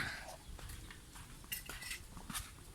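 Metal cooking pots clinking and clattering softly in a few scattered knocks, fairly faint against a low background rumble, during a boat blessing.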